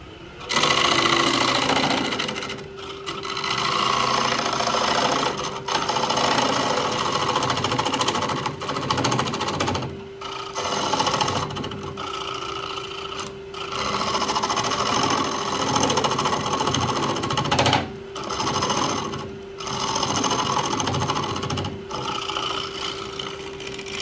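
A wood lathe turns a square cedar bowl while a tool cleans up the bottom, producing a loud continuous motor hum with a steady tone and rough cutting noise, broken by a few brief pauses.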